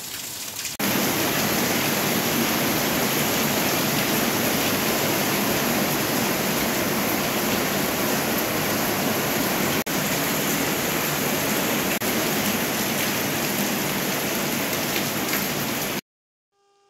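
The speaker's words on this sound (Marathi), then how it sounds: "इतका जोराचा पाऊस आलाय की पहा, आता मी थोडंसं शूट घेतलंय त्याचं, पण भरपूर पाऊस आलाय" Heavy rain pours down outside a home in a steady, dense roar that fills the whole stretch without a break, loud and close, with no voices over it.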